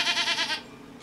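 A sheep near a boatyard on Leros, Greece, gives one short, close, wavering bleat that fades out after about half a second.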